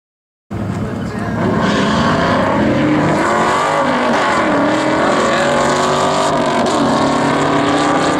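A 2001 Ford Mustang Bullitt races a Coyote-engined Mustang, the roar bursting in after a brief silence and staying loud and close, rising and shifting pitch as the cars accelerate hard through the gears.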